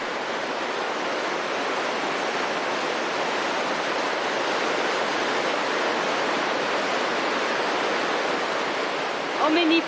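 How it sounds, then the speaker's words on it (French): Waterfall on the Zambezi River, a steady, dense roar of rushing water that holds level throughout, with a brief faint sound near the end. "Encore des chutes."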